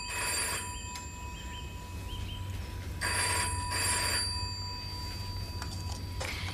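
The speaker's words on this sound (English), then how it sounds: "You can't just let a phone ring on and on." An old telephone bell rings in two long trilling bursts indoors, moderately loud against a steady hum, with no one speaking.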